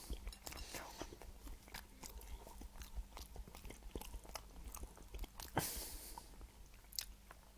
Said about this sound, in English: I'm sorry for boring everybody with me eating some toast